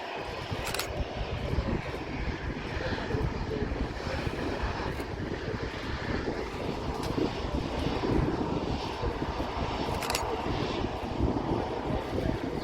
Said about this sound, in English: Again, one of the Neo engine aircraft, you can just see how much quieter they are.